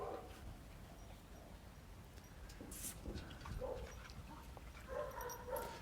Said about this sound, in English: you're seeing a dog that's getting real stimulated